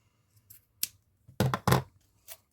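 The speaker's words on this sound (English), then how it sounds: "we're going to trim this down" A few sharp snips of scissors trimming ribbon for a 3-inch boutique hairbow, close and crisp: two light cuts, then a louder double snip and a final softer one in a quiet room.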